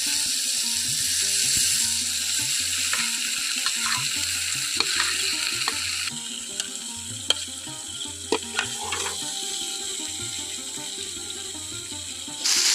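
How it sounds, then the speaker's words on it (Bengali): Okra and potatoes fry in spiced oil with fried garlic, making a steady, close sizzle with occasional stirring clicks and scrapes from the pan throughout. "এখন এর মধ্যে আমি দিয়ে দিচ্ছি ঢেঁড়স আর আলু"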